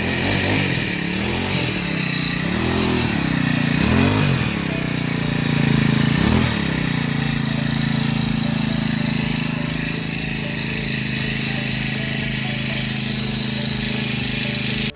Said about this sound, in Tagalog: Ryoco grass cutter, 4-stroke.